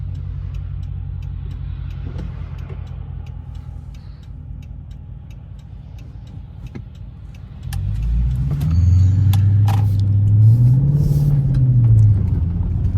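A 2013 Chrysler 300C Hemi RWD drives on a snowy road with traction control off. A steady low engine rumble swells into a loud revving surge partway through, with faint ticking in the cabin.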